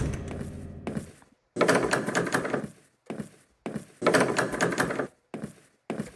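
A locked door handle rattles in the Roblox video game, with loud bursts of mechanical jiggling and clunking separated by brief silences.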